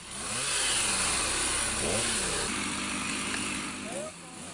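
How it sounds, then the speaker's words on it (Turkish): A firefighters' chainsaw cuts through a tree blown down across a road near Düzce during a storm, its steady engine drone running throughout beneath a voice talking over it. "İtfaiye ekipleri motorlu testereyle ağacı keserek yolu trafiğe açarken"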